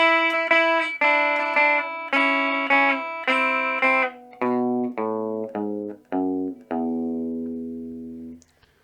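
Rockabilly electric guitar plays a song ending, a run of bright picked notes and chords stepping downward, each phrase ringing and cut off, finishing on a long sustained low chord, loud and close with no talking.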